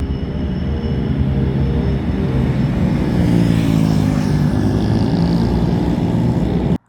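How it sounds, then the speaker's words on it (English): City street traffic with cars and trams passing, a steady loud rumble of engines and rail wheels with a rising swell midway, close and continuous throughout. "a lot of cars, a lot of traffic, trams"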